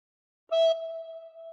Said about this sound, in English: cover holes 1 to 5 with fingers 1 to 5 and blow once.